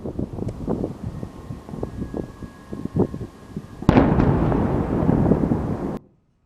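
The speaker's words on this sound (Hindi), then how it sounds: "रूस की कई खतरनाक मिसाइलें कीव में गगनचुंबी इमारतों के बीच जाकर फट गई।" Russian missiles exploding among high-rise buildings in Kyiv: a series of sharp distant booms and cracks, then one loud close blast that leaves a sustained roaring rumble before cutting off abruptly.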